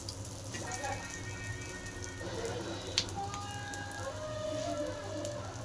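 Green chilies frying in hot oil give a steady, soft crackling sizzle with scattered pops, close by and continuous, while a low kitchen hum runs underneath.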